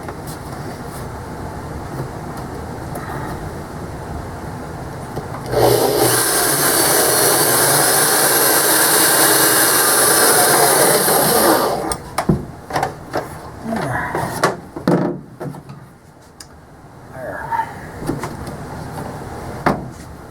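A power drill bores holes through a hinge guided by a drill block on an aircraft door build, a loud steady whine for several seconds, then clunks, rattles and handling knocks in a workshop.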